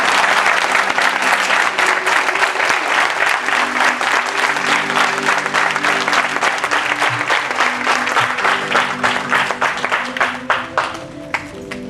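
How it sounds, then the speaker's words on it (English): Thundering round of applause from a large audience welcoming new members into a Soka Gakkai gathering, loud sustained clapping that holds steady for about twelve seconds before tapering slightly at the end. "extend a thundering round of applause to embrace them in the Soka family"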